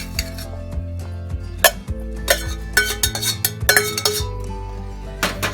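A metal slotted spoon clinks and scrapes against a pot and bowl in a few irregular knocks while scooping boiled shelling beans, close by, with quiet gaps between scoops.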